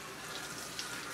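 Water runs steadily from a tap while a dog is being bathed at a grooming session, a continuous close splashing rush with no break.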